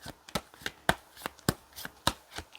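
Tarot cards being shuffled by hand in a steady run of crisp riffling slaps, about two per second, close and fairly quiet.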